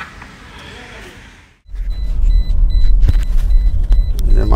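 A car driving after a gearbox repair for a P-to-D gear shift fault: quiet interior hum at first, then a loud steady engine rumble and road noise as it pulls away, with a few clicks and knocks.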